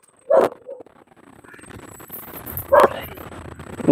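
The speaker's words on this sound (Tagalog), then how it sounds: "Aso." A dog barks nearby with two loud, sharp single barks a couple of seconds apart and the start of a third, against a low outdoor background hum.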